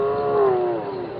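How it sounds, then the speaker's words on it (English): A lion roars in the wild at sunset during a safari drive, one long, moaning call that slowly falls in pitch, heard at a distance and clear of voices. "That's the lion."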